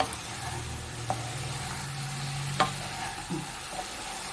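Ground spice paste being stirred into a stir-fry in a pan, a steady sizzle broken by a few spoon scrapes and taps against the pan, close and with no voices.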